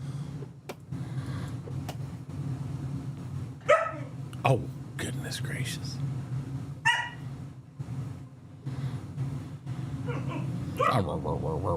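Duke the dog barks in sharp, scattered bursts and whimpers while a person talks to him nearby, with a steady low hum running underneath.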